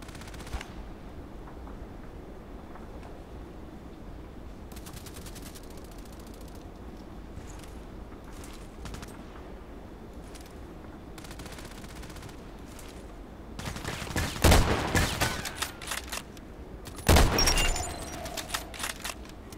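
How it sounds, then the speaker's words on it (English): Suppressed weapon fire in a sniper shooting game, with soft shots spread over a quiet background and then two louder clusters of rapid cracks near the end. "It's so cool to have a silence weapon here."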